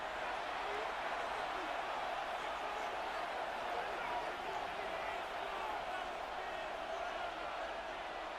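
Steady roar of a stadium crowd in the Madden 26 football video game, a continuous dense wash of cheering at constant level that runs unbroken through the whole stretch.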